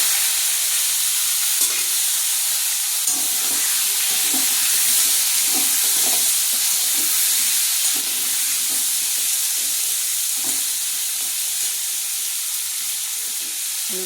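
Potato pieces fry in hot oil tempered with bay leaf, a dense continuous sizzle and hiss with occasional soft scraping from stirring, close and steady throughout.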